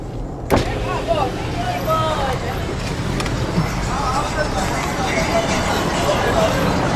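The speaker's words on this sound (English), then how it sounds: "Cars are a nuisance." Cars pass on a road at night with a low, steady engine and tyre rumble and a sharp click near the start, while people talk over it.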